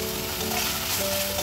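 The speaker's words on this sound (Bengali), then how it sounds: "একটু নাড়াচাড়া করে নেব একটুখানি, বেশ ভালো করে এইরকম কষিয়ে নিতে হবে মশলাটা।" Bengali spice paste with turmeric and Kashmiri chili powder frying in oil, a dense continuous sizzle, close and fairly loud, no speech.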